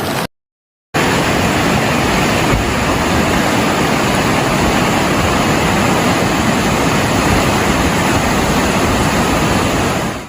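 Floodwaters of the Guadalupe River in Texas rushing, a loud, constant broadband roar of churning water that fills the clip after a brief silent gap near the start.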